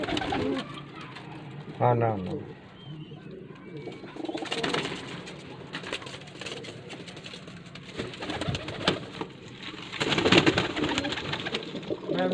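Pigeons coo steadily inside a Faisalabad loft, repeated throaty calls near and far, while several people talk over them throughout.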